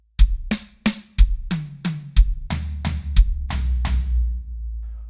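A drum kit plays a triplet groove of bass drum, snare and high, medium and floor toms: about a dozen loud, close hits in a steady rolling pattern, with boomy low tones ringing under them.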